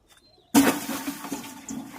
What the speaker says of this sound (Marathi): आता त्याच्यामध्ये हे पाणी ओततोय बघा 12 लिटर.